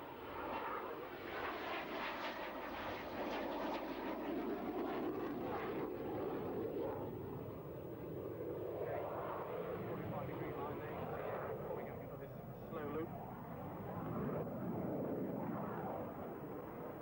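A British Aerospace Hawk jet trainer passes in flight at an air show, a sustained broad engine roar that swells and fades over several seconds, with a commentator's voice running underneath.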